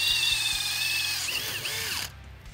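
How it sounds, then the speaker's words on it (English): A power drill whines steadily while boring holes in a scrap metal piece during a 1968 C10 truck build. The motor pitch wavers under load, then the drill cuts off and leaves near silence. "Now I just gotta drill some holes in it."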